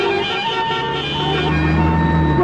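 Road traffic noise in a Telugu comedy film scene, a steady dense roadway hum with engine drone and layered horn-like tones, continuous and fairly loud throughout.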